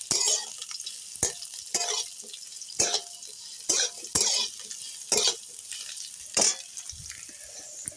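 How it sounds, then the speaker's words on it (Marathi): Bitter gourd stir-fries in a pan over a wood-fired stove, with a steady sizzle under repeated sharp scraping and clacking as the spoon stirs it in an uneven rhythm, close and fairly quiet. "कारलं व्यवस्थित परतून घ्यायचं"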